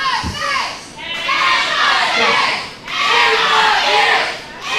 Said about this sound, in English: The crowd chanting for Amethyst.